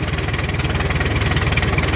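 A 1936 Farmall F-20 Narrow tractor with a roughly 224 cubic inch engine idles close by, giving a steady low, rhythmic chugging throb with no speech.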